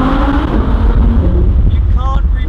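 Audi R8 Spyder with a naturally aspirated engine pulling hard, a loud sustained engine roar close up with wind noise over it and a voice speaking briefly.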